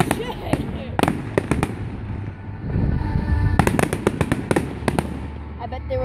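Fireworks, including mortars and salutes, go off outdoors in a long run of loud, sharp bangs and crackles in quick succession, with excited voices nearby.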